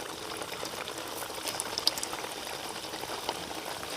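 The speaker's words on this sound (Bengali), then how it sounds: "এবার মিষ্টিগুলো আমি তেলের মধ্যে দিয়ে দেব।" Semolina sweets sizzle steadily in hot oil, a constant fine crackling hiss with occasional sharper pops, alone and fairly quiet.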